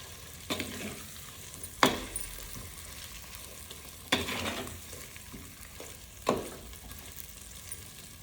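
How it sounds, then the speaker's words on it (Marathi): Masala for stuffed brinjal curry fries in a pan, a soft steady sizzle broken by four sharp spatula scrapes and stirs spaced a couple of seconds apart, close by. "मसाल्याला पण चांगलं परतून घ्यायचं."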